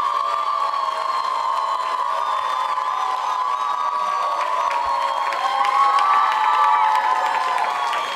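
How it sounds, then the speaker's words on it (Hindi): A crowd of girls at a teacher-training college anniversary event cheering and shouting loudly and continuously, a dense sustained roar of young voices with faint clapping beneath, swelling slightly toward the end. "जोरदार तालियां बजाइए आप"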